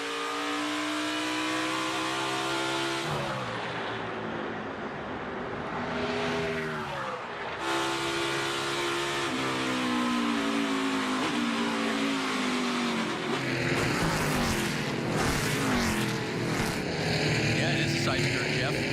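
Race car engine roaring loudly as it powers past a rival out of a corner at the 2020 Henry 180, a sustained high revving whine with rising and falling pitch, a commentator talking over it.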